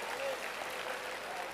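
Brief burst of audience applause at a Catholic talk on prayer, dense and steady clapping throughout with talk-like murmur mixed in.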